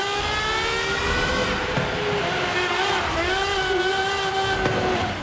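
Aston Martin Valkyrie hypercar from 2023 in Forza Horizon 5, its high-revving engine screaming loudly and continuously with rising and shifting tones throughout.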